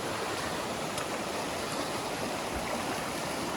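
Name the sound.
fast-flowing stream water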